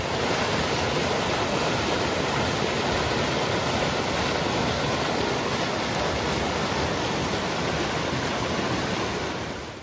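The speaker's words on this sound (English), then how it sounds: "right there, I included some video of the river, which is running, and there's these snow banks" The Santa Clara River runs swollen with snowmelt between snow banks near Pine Valley, a steady, dense rush of flowing water that fills the whole span at close range with no voices.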